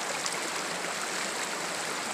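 A river stream rushes and splashes steadily, loud and close, as a broad continuous wash of flowing water with no voices.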